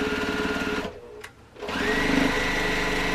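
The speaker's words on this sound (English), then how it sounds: "going to sew around the edges to secure the whole quilt." A sewing machine stitches around the edges of a quilt with a steady, close, whirring hum, pausing briefly before running again at a constant pace.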